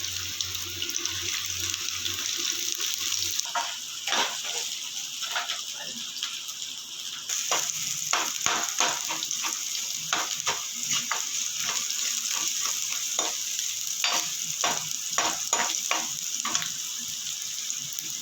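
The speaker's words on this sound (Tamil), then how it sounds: "ஆனியன் நல்லா வதங்கிடுச்சு" Onions and garlic fry in a pan for prawn fried rice, giving a continuous bright sizzling hiss. Repeated scraping stir strokes grow busier partway through, with no talk.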